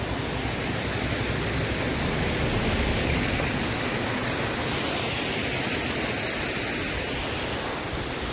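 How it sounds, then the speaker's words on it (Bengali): A small hillside waterfall during monsoon rain, a dense, steady rush of falling water heard close and loud throughout. "সামনে একটা ছোট্ট ঝর্ণা আছে"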